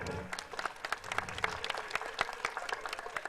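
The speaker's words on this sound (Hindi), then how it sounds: "एक बार जोरदार तालियों के साथ" An audience at a religious foundation-stone ceremony in Chhaprauli, Baghpat, breaks into applause for a monk, a dense run of overlapping claps that carries on steadily at moderate distance.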